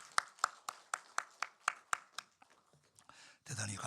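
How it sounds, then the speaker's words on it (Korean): A church congregation at a Sunday worship service claps hands in a steady, even rhythm of about ten crisp, fairly faint claps, then breaks into a brief rougher burst of noise. "우리 크게 박수하십시다."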